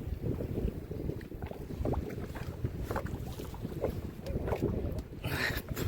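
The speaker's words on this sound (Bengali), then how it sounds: "প্রচণ্ড হাওয়া উপরটায়।" Strong wind roars over an open boat on a Sundarbans river during a fishing trip, a steady loud rushing buffet with gusts throughout and a brighter burst near the end.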